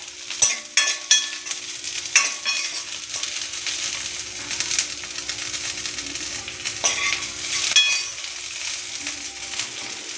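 Ginger and garlic fry in a pan with lightly browned coconut, a steady close sizzle broken by a few scraping stirs and the clink of a spoon against the pan; no one speaks.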